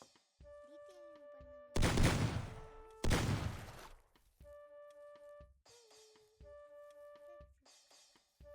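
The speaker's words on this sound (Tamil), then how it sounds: "உன் பக்கத்துல ஒருத்தன் சுட்டான்" Gunfire in the mecha combat game Mecha Chameleon: two loud, broad bursts close together near the start, then quieter clicks and tonal interface beeps alone, with no voices.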